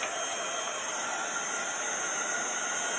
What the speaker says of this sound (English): then I'm going to heat that up using my heat tool